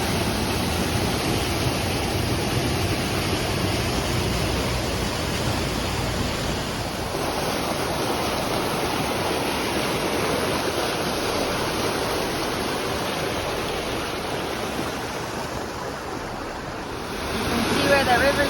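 A river rushes where its flow splits around a divide at Franconia Notch, a loud continuous roar of churning water echoing off a nearby rock wall and swelling slightly near the end.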